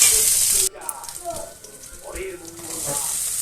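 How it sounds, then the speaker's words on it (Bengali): Diced potatoes and onion sizzle in hot oil in a pan for a spicy semolina dish, a loud hiss at first that stays softer under a person talking. "দিয়ে একটু নেড়ে ভালো করে একটু ভাজা ভাজা টাইপের করবো।"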